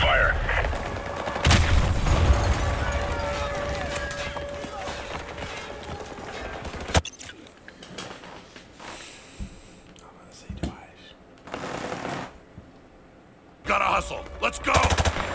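Gunfire in a Call of Duty war campaign: dense, loud bursts of automatic fire and booming shots, then sparser scattered shots and explosions.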